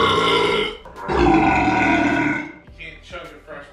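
A long, loud, deep burp follows chugging root beer in a burping contest. It is close and drawn out for over two seconds, then trails into short voiced sounds.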